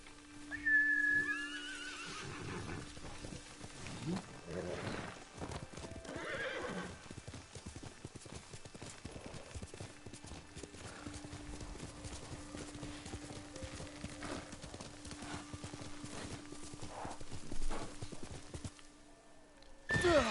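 Horse hooves clip-clop at a gallop through the Ghost of Tsushima video game, with several whinnies and neighs breaking in, loud and close above a steady tonal game ambience and a faint whistle.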